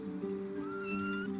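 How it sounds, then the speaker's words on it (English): A jungle cat meows once in a drawn-out, wavering call, close and clear, with a low steady hum beneath it. "Jungle cat."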